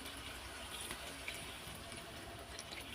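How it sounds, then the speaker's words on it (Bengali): Hot water poured into a pot of duck curry, a soft continuous splashing and gushing pour, faint and steady for a few seconds with no talking. "এটা গরম পানি দিচ্ছি"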